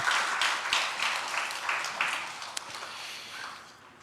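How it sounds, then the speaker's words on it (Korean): A church congregation applauding in celebration during a service, a steady wash of many hands clapping that gradually fades toward the end. "우리 축하의 박수 한번 드리겠습니다."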